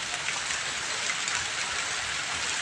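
Light rain falls steadily on a cocoa plantation, a continuous soft hiss of drops on leaves and ground with no voices over it.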